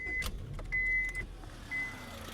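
The engine of a 2003 Honda Civic, just fitted with a replaced hose, cranks and starts. Brief whining tones rise over a low engine rumble, all close by with no talking.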